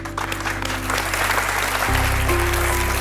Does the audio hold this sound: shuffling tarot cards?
no